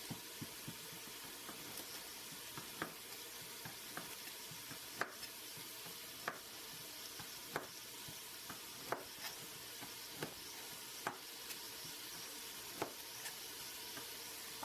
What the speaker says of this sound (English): we're just going to saute the kaneka until it's thawed out and has a nice little sear on it